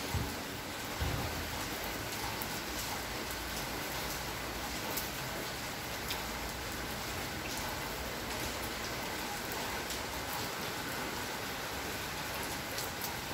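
Heavy rain falls steadily during a strong thunderstorm in Athens, a dense, even hiss of drops that stays loud and continuous throughout, with no voices.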